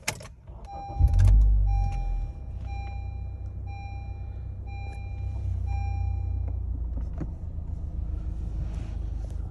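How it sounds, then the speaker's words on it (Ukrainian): A 2013 Honda Accord's engine cranks and catches, then settles into a steady, even idle close by, while a repeated electronic chime beeps over the running engine. No one speaks. "Зараз заведемо автомобіль."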